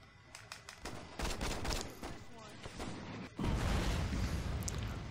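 Bursts of gunfire in the video game Saints Row during a dockyard shootout, rapid volleys and sharp cracks, with heavier sustained shooting in the second half; a voice speaks briefly.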